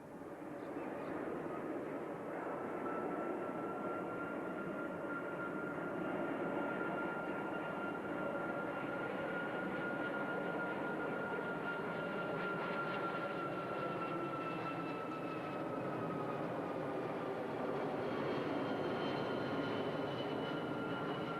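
Qantas Boeing 747 jumbo jet at the 1992 Avalon Australian International Air Show, a sustained, distant turbine roar and whine that rises slightly and holds steady throughout.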